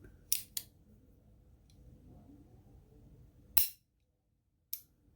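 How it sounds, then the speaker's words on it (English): Trigger pulls on an East German Walther PP clone pistol, unloaded: a few sharp, crisp mechanical clicks spaced apart, close and clear over a faint quiet background. "As you pull the trigger on this gun, you'll see that little pin"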